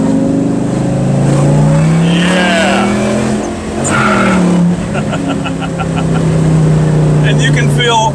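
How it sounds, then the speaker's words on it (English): A 550-horsepower Mustang GT500 engine in a 1967 Fastback restomod roars and revs steadily, loud and deep, pitch rising and falling, with a brief voice over the rumble. "Love the sound of this car."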